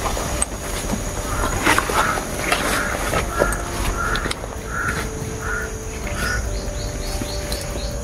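Crows caw repeatedly, around eight harsh calls in a steady series, over a constant rumbling background like a passing train.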